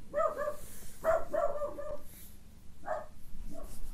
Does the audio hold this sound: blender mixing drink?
no